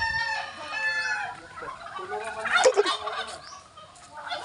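A turkey gobbles in a rural Batangas yard, its bubbling calls rising over other fowl chatter at close range, with a louder burst of gobbling in the middle.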